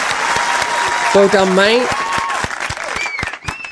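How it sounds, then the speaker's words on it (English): Applause for Dean at a podcast taping on music artists, a short burst of clapping from a small group of people, with someone speaking briefly over it. "give him a clap"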